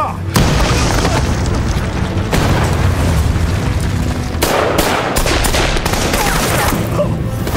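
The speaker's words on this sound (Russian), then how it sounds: "Граната!" A grenade blast amid gunfire in a tense armed standoff, with heavy booms and crackling bursts of shots filling the scene, loud and dense, with sharper cracks clustered toward the end.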